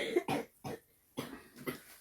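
A person coughs in a quiet workshop, with four or five short, sharp bursts separated by brief pauses and heard nearby.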